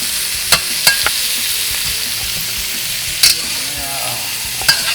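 Onions and garlic sizzle steadily in a pan for sweet and sour pork, a loud continuous frying hiss broken by a few sharp clicks of a utensil stirring against the pan.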